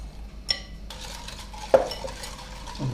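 Egg yolks whisked in a bowl while making chocolate pancakes, with a few close clinks and scrapes of utensil against the bowl and a soft stirring swish between them.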